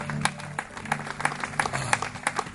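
A church congregation applauding, steady rhythmic clapping from many people with scattered voices mixed in and a sustained tone humming underneath.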